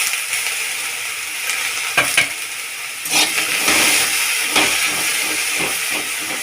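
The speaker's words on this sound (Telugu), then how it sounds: "ఇప్పుడు ఇందులోనే కొబ్బరి వేసుకొని ఫ్రై చేసుకోవాలండి" Grated coconut and dried red chillies dry-frying in a pan without oil, giving a steady bright hiss and sizzle with several louder scraping stirs of a spoon, close up and without talk.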